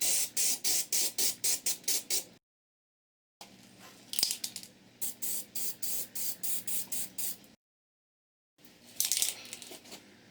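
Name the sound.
Rust-Oleum primer spray can spraying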